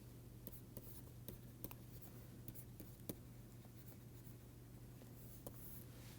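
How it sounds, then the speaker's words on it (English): Chalk or pen strokes write out a lecture derivation, faint, irregular scratches and taps over a steady low hum, with no talk. "let me write down the dual"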